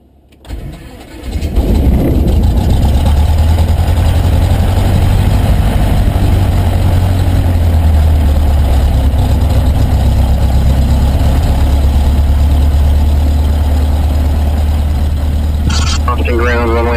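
A Cessna 152 Aerobat's propeller engine cranks over and catches, then settles into a loud, steady low idle that runs continuously, with a brief chirp near the end.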